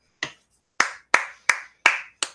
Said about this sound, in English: I'm applauding you because that's hard.